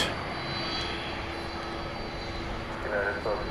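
A FedEx aircraft on final approach at DFW Airport at night makes a steady, distant engine drone under a constant tonal hum, with faint voices toward the end.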